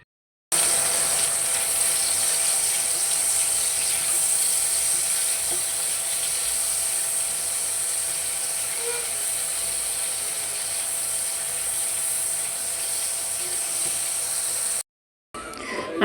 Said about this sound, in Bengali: আর এটা আমি এখন ঢাকনাতে ঢেকে কিছুক্ষণ ভেজে নিব।